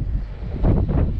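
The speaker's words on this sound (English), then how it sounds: "It's still windy as, so you can probably hear." Low, blustery wind buffeting the microphone in rumbling gusts during wheat straw windrowing, with no talking.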